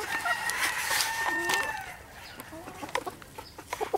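Chickens cluck in short, scattered bursts close by, while a rooster crows once near the start with a long drawn-out call. The setting is a backyard flock of show birds.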